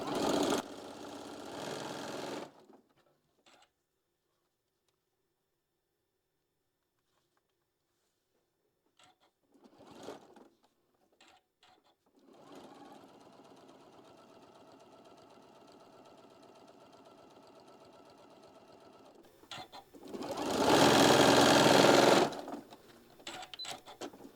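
A sewing machine runs in short bursts of anchoring stitches: a brief whir, then quiet, a couple of quick stutters, a longer steady run of stitching, and finally a loud fast burst near the end.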